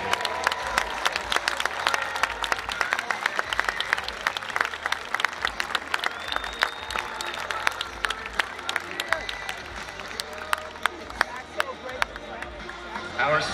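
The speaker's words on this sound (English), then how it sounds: "And now let's hear it for number 37, Charlie Malloy." A crowd at a college stadium Ring of Honor ceremony claps and cheers for an honoree, steady applause from many hands with scattered shouts, fairly near and continuous throughout, a voice speaking faintly over it.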